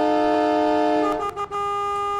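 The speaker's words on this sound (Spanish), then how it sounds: "qué buenas bocinas" A Freightliner Cascadia semi truck in American Truck Simulator sounds its horn, a sustained multi-tone blast that changes pitch partway and briefly breaks before holding steady again, loud and alone.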